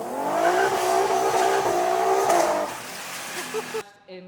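An Infiniti Q50 with a supercharged 3.7 VHR engine revs loud and close. A sustained roar rises in pitch, then drops off into choppy idle burbles before cutting out.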